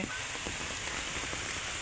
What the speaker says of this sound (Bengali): এই যে বৃষ্টি আবারও শুরু হয়ে যাচ্ছে, মুষলধারে বৃষ্টি